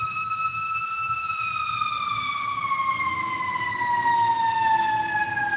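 A fire truck siren wails steadily and loud, its pitch gliding slowly downward as the vehicle passes, with a low rumble of traffic underneath and no talking.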